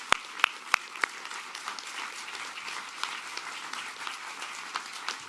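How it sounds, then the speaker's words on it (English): Audience applause at a ribbon cutting and grand opening ceremony for THEARC West, a few sharp claps opening into a steady, moderate patter of clapping from a seated crowd that continues throughout. "Can we give them a round of applause?"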